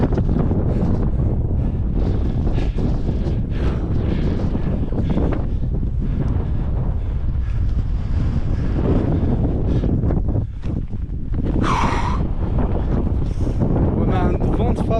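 A strong headwind on a steep climb during the Faverges-Seythenex trail race buffets the microphone in a continuous low roar, with brief higher gusts and rustles, loud and close throughout.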